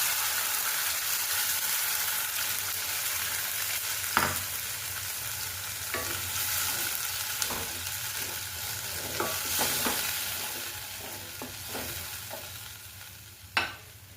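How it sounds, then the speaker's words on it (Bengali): Spinach paste fries in mustard oil with black cumin and a dried chilli in a wok, a continuous sizzling hiss punctuated by a few sharp clinks and scrapes of a spatula, with no talking. "এরপরে পালং শাকের পেস্টটা আমি এর মধ্যে দিয়ে দেবো।"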